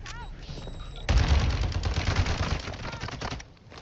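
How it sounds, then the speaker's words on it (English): Sustained gunfire in the Call of Duty DMZ video game: a dense, rapid rattle of shots bursts in suddenly and keeps hammering for a few seconds before easing off, loud and close. "You are taking effective fire."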